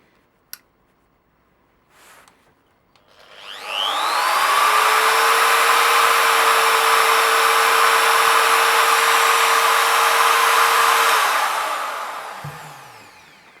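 A few small clicks, then a Sturmax GMM2365P 650 W straight grinder spins up to a loud, steady whine at maximum speed, holds for several seconds, and winds down.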